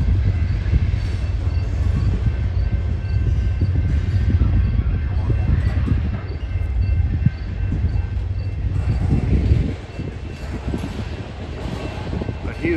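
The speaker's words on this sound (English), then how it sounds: "CSX train off in the distance" A CSX freight train rumbles steadily in the distance near a rail diamond crossing in Fostoria, Ohio, with a low continuous roar of wheels on track, fading somewhat toward the end.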